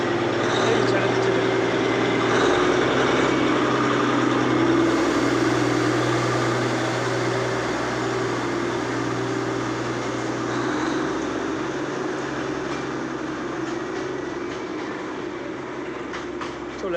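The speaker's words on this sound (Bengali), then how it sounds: "ট্রেনটা ছেড়ে দেবে, দেখো" Darjeeling toy train on its small line pulling out of Darjeeling Railway Station: a steady, fairly loud rumble with a low engine drone that holds through the whole departure and eases slightly near the end.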